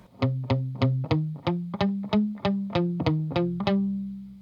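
A distorted electric guitar riff, about a dozen sharp plucked notes in a steady, driving rhythm, loud and close with no talking.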